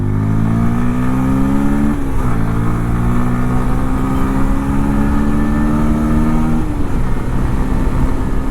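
A Bajaj Pulsar 125 Classic motorcycle engine revs loudly and close up, its pitch climbing steadily in two long pulls, each ending in a brief drop, with no talk over it.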